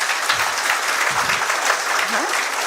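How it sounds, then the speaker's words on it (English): A live audience breaks into sustained, steady applause for a mentor being introduced at a coaching class, dense clapping filling the whole stretch with a brief voice rising near the end. "So give him a warm applause also."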